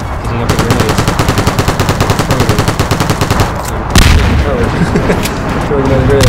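Gunfire and grenades in the video game Cortex Command: rapid, evenly spaced shots rattle for several seconds, then one sharp explosion bursts out, followed by more scattered rumbling.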